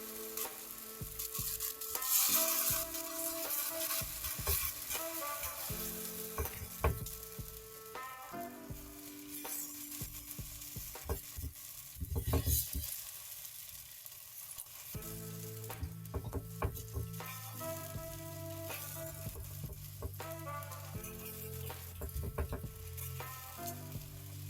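Besan chilla batter sizzles on an oiled pan, a quiet, continuous frying hiss that rises and falls over a steady tonal background.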